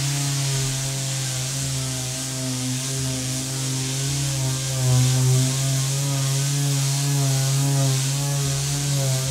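A Mirka Ceros electric sander runs continuously with a steady motor whine and buzzing hum, a close, loud, even drone that swells slightly midway, with no voices.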